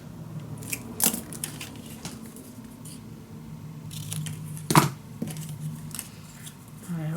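Scissors snip through pieces of patterned craft paper for a handmade magic box, a few separate close cuts spread out with quiet handling and rustling between them.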